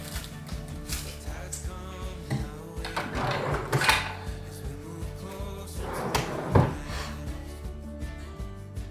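A household drawer slid open and shut during tidying at home, several wooden rubs, knocks and thuds spread across the stretch, close by and moderately loud.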